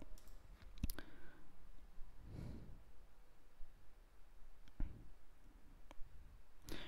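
Computer mouse clicked while working in Revit: a handful of sharp, sparse clicks spaced seconds apart in a quiet room.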